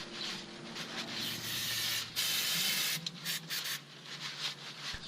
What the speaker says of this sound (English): use your brake cleaner and paper towel, but avoid to spray directly to the rubber boots